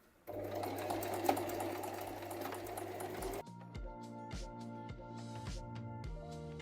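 A domestic sewing machine stitches a fabric weekend bag, first a steady continuous whirring run, then a series of short, rhythmic bursts of stitching with brief pauses between them, close and fairly quiet.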